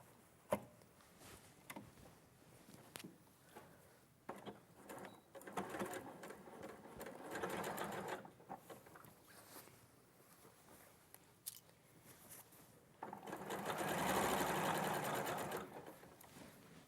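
Sewing machine running a straight-stitch seam, heard in bursts of close mechanical whirring and needle clatter with brief pauses, swelling to a longer steady run near the end.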